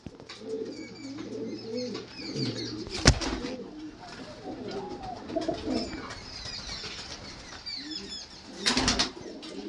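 Low repeated cooing from a loft of pigeons, kept alongside young birds, runs steadily throughout, broken by two sharp bursts of wing flapping, one near the start and a louder one toward the end.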